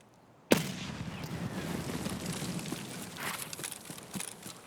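A grenade goes off in the Escape from Tarkov video game, giving a sudden loud blast followed by a long rumbling, crackling tail that decays slowly through the rest of the clip, with no talk.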